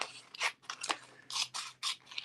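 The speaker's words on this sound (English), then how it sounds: "So I'm just going to cut this." Scissors snip through calendar kit paper pieces in a quick series of short, crisp cuts, close and fairly faint, with no talking.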